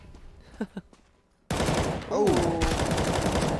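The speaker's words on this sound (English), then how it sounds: "He's trying to entry frag with the Tech 9 right now" Tec-9 pistol fire in a Counter-Strike match on the Overpass map, a loud, dense burst of rapid shots that starts abruptly after a brief faint voice and keeps going to the end.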